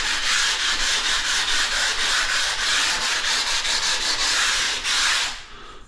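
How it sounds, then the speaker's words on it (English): Steady abrasive rubbing as the sharp edge of a ceramic bathroom tile is ground smooth, a continuous close scraping with slight rhythmic strokes that stops abruptly near the end. "What I'm doing here now is just take the sharp edge off this tile"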